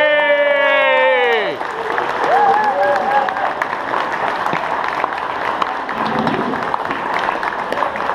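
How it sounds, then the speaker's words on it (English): A crowd applauds a pilot honored at an airshow award, sustained clapping with cheers while a loud horn-like tone fades in the opening seconds and voices carry over the applause. "I think he deserves a big round of applause"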